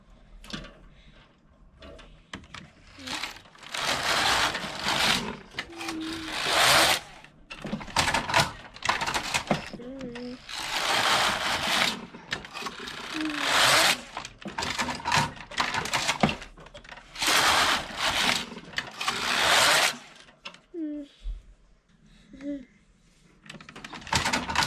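Passap E6000 knitting machine with a motor knitting rows: repeated bursts of clattering, rattling carriage passes, each lasting a second or two with short gaps, close and fairly loud, with brief speech between passes.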